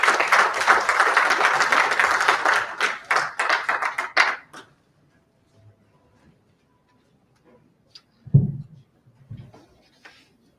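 A conference audience claps loudly for about four seconds to welcome a speaker, the applause thinning to scattered claps and then silence.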